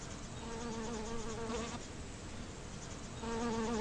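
Bees buzz as they fly from flower to flower, a steady droning hum with clear harmonic whine that swells and fades as insects pass near the listener, with no voices.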